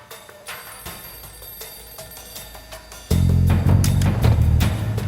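A telephone rings with repeated bursts of bell-like tones, faint at first and then abruptly loud and full for the last couple of seconds, with no voices.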